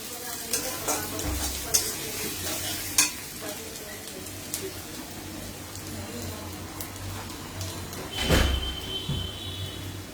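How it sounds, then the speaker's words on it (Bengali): Onions frying in a pan until deep golden brown for beef biryani meat kosha, a steady close sizzle with scraping stirs and a few clanks of the spatula against the pan, no voices. "পেঁয়াজটা হচ্ছে আমরা লাল লাল করে ভেজে নেব, মানে একটু বেরেস্তার মতো করে ভেজে নেব।"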